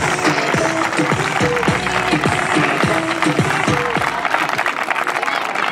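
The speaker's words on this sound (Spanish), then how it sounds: "Quiero que deis un fuerte aplauso a estos que están aquí, que son realmente los protagonistas." Applause and cheering from a crowd at a children's presentation event (Foietes 2017), steady dense clapping with shouts and voices over it throughout.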